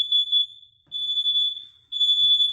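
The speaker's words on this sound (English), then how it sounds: "once the alarm detects any carbon monoxide or smoke detector, it will sound off in every room" An interconnected carbon monoxide and smoke alarm in a residential room sounds a piercing high electronic tone in three long bursts with short gaps, loud and steady, no voices.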